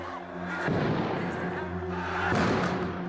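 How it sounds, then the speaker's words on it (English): Deep, rumbling booms from bomb explosions roll in over a continuous low roar, two heavier blasts standing out, with voices faintly mixed underneath. "We counted at least 6 separate explosions."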